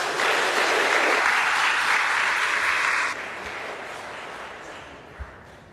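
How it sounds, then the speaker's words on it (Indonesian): Loud, dense clapping from a room of officials at a swearing-in ceremony at the Indonesian human rights ministry, cut off abruptly partway through and leaving only quiet room tone afterward. "Tepuk tangan dong kalian semua."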